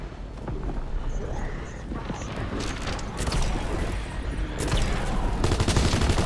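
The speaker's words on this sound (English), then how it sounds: "Shooting that zeppelin down because that thing's hurting me." Continuous gunfire aimed at a zeppelin in Call of Duty: WWII Zombies, a dense rattling barrage over rumbling ambience, steady and loud, with a voice talking over it.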